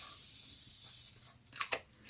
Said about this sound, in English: I'm just going to go in with my Morphe spray.